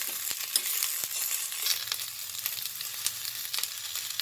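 Onions fry in hot oil in a pan, giving a steady close bright sizzle with small pops and light crackles running through the whole stretch and no talking.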